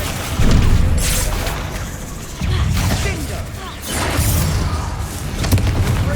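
Bombarda spell explosions in Hogwarts Legacy go off as repeated heavy booms with crashing debris, each blast swelling loud and close, spaced a couple of seconds apart over game combat noise.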